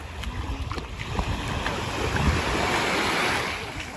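Ocean waves wash in at a beach, a steady loud surf roar with wind buffeting the microphone and no speech.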